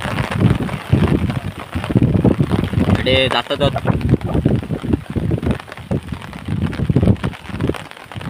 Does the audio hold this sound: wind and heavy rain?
yes